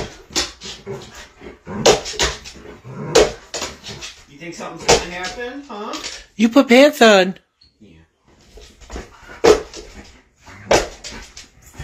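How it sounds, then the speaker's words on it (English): Excited pet dog whimpering and yipping at home, eager to go outside, heard in short bursts between and under a person's lively talk. "Every time he puts on jeans, their dog gets excited because it means it's time to go outside."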